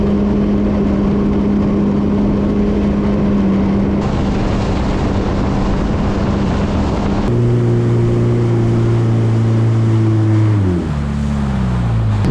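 A Yamaha jet ski engine drones loud and continuously while crossing flat, calm Lake George, its steady hum shifting pitch a few times as the throttle changes, with wind and water rush underneath.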